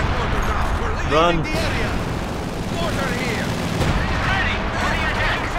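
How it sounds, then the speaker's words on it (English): Artillery bombardment and gunfire rumble through a Company of Heroes 2 battle at Stalingrad, with a steady roar of blasts and shots beneath a voice shouting a short warning. "Incoming artillery, oh shit."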